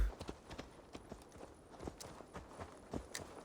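Horse hooves clip-clop in Assassin's Creed Valhalla, a quick run of light hoof strikes with a steady gait, moderately close over a soft game ambience.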